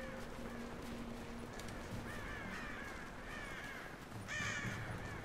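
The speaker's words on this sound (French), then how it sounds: "Les corbeaux." Crows caw repeatedly in the video game Rise of the Tomb Raider, several harsh calls over a steady outdoor ambience, with a louder, brighter burst of cawing near the end.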